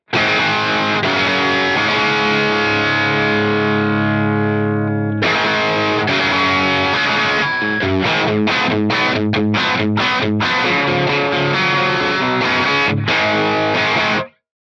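Heavily distorted electric guitar through an Axe-Fx III with two phase-aligned cabinet IRs: a long sustained chord that cuts off, then a run of quick chugging palm-muted hits and short stabs, loud and up front.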